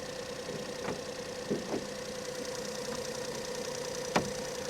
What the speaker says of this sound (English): That does sound very, very quiet, that engine.